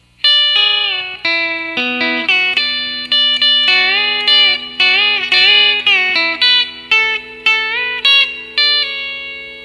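Electric guitar with a B-bender plays a lead line, a quick run of bright plucked notes with pedal-steel-like string bends gliding between pitches, loud, close and alone.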